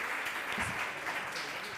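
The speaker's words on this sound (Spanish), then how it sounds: "Un aplauso para Sofía," Brief, moderately soft applause from an audience at a talk on comics as sequential art, an even patter of clapping lasting under two seconds.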